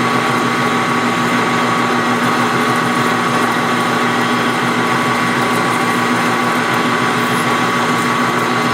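Drilling 7075-T651 aluminium on a Mini Hog mill produces a constant high-pitched machine whine with a strong steady tone, loud and unbroken throughout with no voices.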